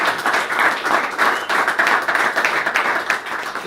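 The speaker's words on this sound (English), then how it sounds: "Have a big round of applause for our four speakers" A pub audience gives a big round of applause to four debate speakers, steady dense clapping filling the room from start to finish, loud and close.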